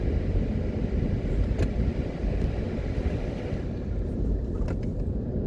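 A car drives along the Old Harbour Main Road near Spring Village in Jamaica, giving a steady, continuous low rumble of engine and tyre noise heard from inside the vehicle, with no talking.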